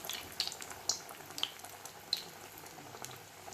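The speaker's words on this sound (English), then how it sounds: "I already have my vegetable oil. Is hot enough, so I'm gonna be dipping it" Italian rice balls fry in hot vegetable oil, a faint, steady sizzle with scattered small pops and crackles, heard up close with no voices.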